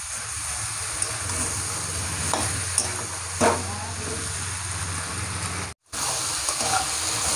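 Mutton liver pieces and fried potatoes are stirred in a pan, producing a low, steady sizzle with occasional scraping strokes and a brief cutout near the end.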